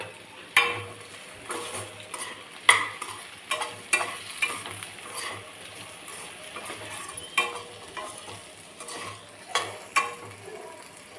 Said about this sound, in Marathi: आता फ्लावर चिरून घेतलेला आहे, तो घालूया. थोडंसं मऊसर होईपर्यंत हे परतून घ्यायचं.